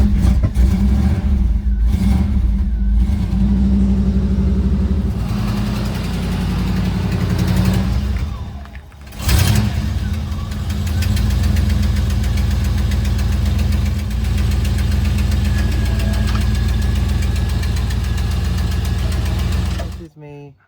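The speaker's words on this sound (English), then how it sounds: "Engine starting up for the very first time." A Pontiac Trans Am engine cranks over and catches on a cold day, then settles into a steady, loud idle that runs on for most of the clip with a brief dip midway; no talk is heard.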